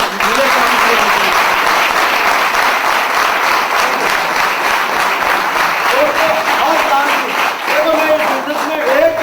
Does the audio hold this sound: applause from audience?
yes